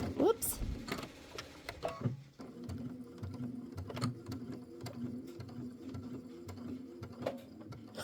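A home sewing machine stitching a Christmas quilt wall hanging, its speed set by a foot control, runs slowly with a steady, close ticking stitch rhythm after a few louder handling knocks at the start.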